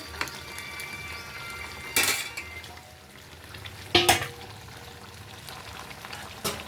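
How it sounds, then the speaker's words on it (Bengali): Chow mein tipped from a small wok into a bigger wok: two loud scraping, clattering bursts of metal on metal over a steady background sizzle, with a quieter clink near the end. "বড় কড়াইতে ঢেলে দেবো, তো ছোটো কড়াই তো ধরছে না, চাউমিনটা ঢেলে ওতে ঢেলে দেবো।"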